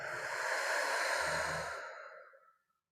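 One long, deep breath fully exhaled at the close of a yin yoga class, a soft close sigh that swells and fades away into silence.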